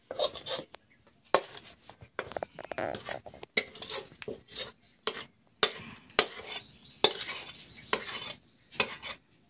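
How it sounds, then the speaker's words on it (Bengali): Hot raw mango candy mixture poured off the stove onto a metal plate, with repeated scraping and clinking of a spoon against the plate in short bursts, close and fairly loud, with no talking. "তো এবারে থালার মধ্যে ঢেলে নিচ্ছি।"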